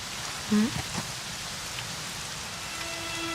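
Rainfall in the video game Dragon Quest XI, a steady wash of drops hitting surfaces, with a brief chime-like tone early and a faint sustained tone late, no voices.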